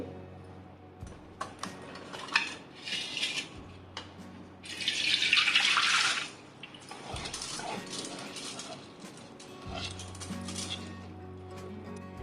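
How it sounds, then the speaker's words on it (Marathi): Soaked rice sits in a sieve over a pot as water drains into it, with one brief rush of pouring water amid light drips, clinks and a low steady hum indoors. "पाणी या भांड्यात निथळते आहे।"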